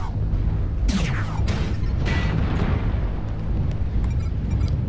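Missile explosions in MechWarrior Online, heard from a Catapult CPLT-C1 mech in a Forest Colony conquest match: a few loud booming impacts with sweeping whooshes over a steady low rumble, landing close one after another.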